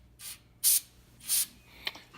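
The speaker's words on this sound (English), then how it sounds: "I'm gonna do a little spray." Short bursts of aerosol spray hiss onto a Yamaha PW50 carburetor during cleaning, three to four quick puffs close to the microphone with brief silences between them.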